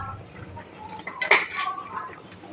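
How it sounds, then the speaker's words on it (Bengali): A ladle stirring thickening payesh, a Bengali rice pudding, in a pot, with quiet scraping and one sharp metallic clank of ladle against the pot rim midway. "ভালো করে নাড়াবো, দেখো"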